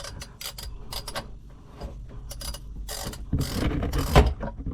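A ratchet clicks as it unscrews a part on a Yamaha 1.8L SVHO watercraft engine, close-up bursts of rapid pawl clicking in short runs, followed by a fuller clunk of the part shifting.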